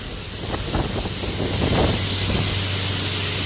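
Steam hisses loudly and continuously inside a power plant where it drives electricity generation, a broad rushing roar with a low hum beneath and no talking.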